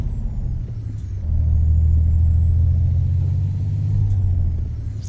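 Peterbilt 377 truck engine in American Truck Simulator, a deep diesel rumble that rises as it revs and holds steady, loud and close, with a brief hiss-like burst near the start.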